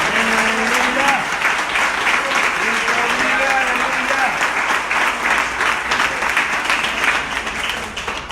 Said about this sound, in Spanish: Vamos a darle un aplauso al Rey de Gloria.